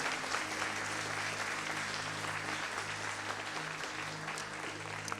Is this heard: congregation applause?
yes